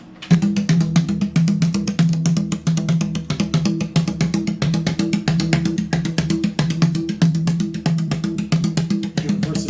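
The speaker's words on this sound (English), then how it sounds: "if you just hear that 16th pattern on congas," Fast, steady sixteenth-note hand drumming on congas in a 5/16 over 4/4 polyrhythm, a continuous rolling groove of even, closely spaced hits with no voices.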